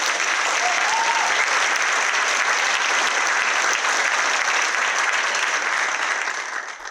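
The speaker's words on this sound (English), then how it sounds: "Let's give Chief Shirley a big round of applause." Sustained, dense applause from a large audience at a State of the City address, loud and even throughout, tapering slightly at the end.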